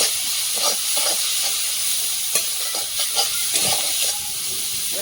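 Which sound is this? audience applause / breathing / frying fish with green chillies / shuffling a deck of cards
frying fish with green chillies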